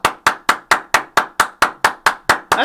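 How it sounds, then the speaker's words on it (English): Hand claps ring out loud and close in a steady, evenly spaced series of about a dozen sharp slaps, each with a brief decay, alone without talk. "Clap it up."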